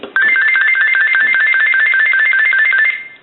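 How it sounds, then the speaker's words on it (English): A GE Cordless 6.0 telephone, model 27909EE, warbles an electronic ringtone in a steady repeating pattern for about three seconds, close and clear, then stops. "we're going to do is go ahead and call this telephone"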